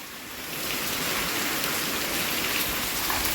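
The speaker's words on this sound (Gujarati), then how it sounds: "વરસાદ છે ને સવારનો 7 વાગ્યાનો ચાલુ છે" Steady rain falls and patters continuously on surfaces, swelling in the first moment and then holding a dense, even hiss throughout.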